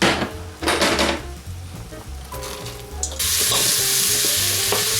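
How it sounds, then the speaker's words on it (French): Onions sizzling in oil in a pan with stirring and clinks of a utensil, the frying growing louder and steadier partway through. "On va faire revenir les oignons dans un premier temps."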